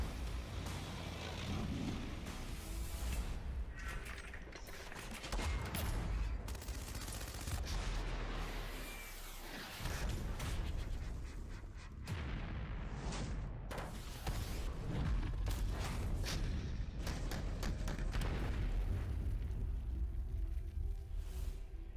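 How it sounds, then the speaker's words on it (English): Military weapons of the Indian Army fire in a played video: dense, continuous volleys of gunfire with booming rumble. The sound is fairly quiet and distant, with no talking over it. "Wow, how amazing was that when it was shooting."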